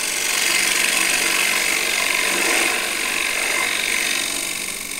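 On a wood lathe, a spinning platter is shaped with a cutting tool that scrapes wood away in a continuous, loud rasping hiss lasting the whole stretch, close and without pause.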